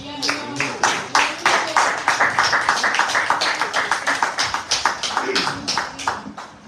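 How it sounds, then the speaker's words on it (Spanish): Congregation at a church service clapping, with sharp individual claps in a loose, uneven rhythm that gradually thins out, and a voice speaking faintly underneath. "Del aplauso al Señor."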